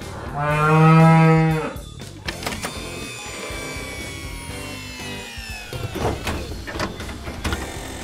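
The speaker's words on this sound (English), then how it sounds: "We've got you mooing like a cow" A long, loud cow moo rings out for about a second, followed by quieter mixed background noise and faint rustling.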